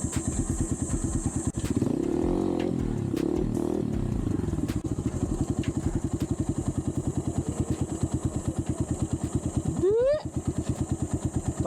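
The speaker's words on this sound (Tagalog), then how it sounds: "Gagamitin natin yung bagong biling motor." A motorcycle engine putters in a steady, rapid thump while riding, close and loud, with a brief revving whine near the end.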